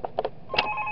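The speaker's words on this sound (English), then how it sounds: "Oh, we get a phone call?" A phone rings in the horror video game Five Nights at Thomas's 3, a short electronic ring with steady tones sounding alone and fairly loud.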